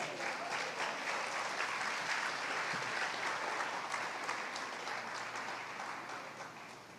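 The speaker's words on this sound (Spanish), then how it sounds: "¿Cuántos aplauden al Señor?" Steady applause from a large church congregation, a dense continuous clatter of clapping that holds for several seconds and slowly tapers near the end.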